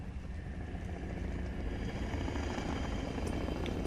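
Helicopters flying in the game The Walking Dead: Survival Instinct produce a continuous, dense rotor and engine roar that holds steady for the whole stretch.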